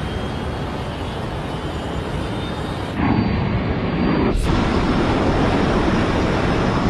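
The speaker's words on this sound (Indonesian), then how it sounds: "pesawat pun siap lepas landas" A loud, steady roar of a jet airplane engine building as it takes off, with a brief swoosh midway, in a film.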